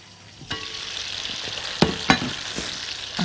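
Chicken sizzles steadily in a frying pan while pieces are flipped, the turns landing as a few sharp clatters and bursts of louder hissing over the constant close fry.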